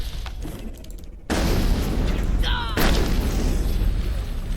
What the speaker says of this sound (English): I want to throw a grenade, if I remember how to.